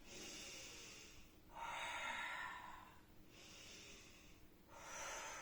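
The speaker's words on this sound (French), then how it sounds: "J'inspire." Slow, deep breaths during a gentle gym exercise, long audible inhales and exhales alternating in a calm rhythm, close and soft with no talking.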